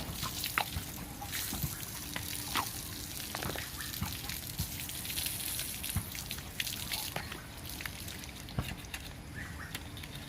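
Water splashes and drips steadily over a horse being rinsed with plain water, a continuous faint trickle with scattered patters and a little background voice.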